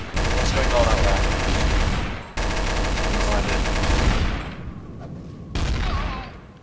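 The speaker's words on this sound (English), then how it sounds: "is he just shooting randomly or is he actually killing people?" Gunfire in Garry's Mod Trouble in Terrorist Town rattles in loud, sustained automatic bursts, close and dense, broken by short gaps and ending in a final burst.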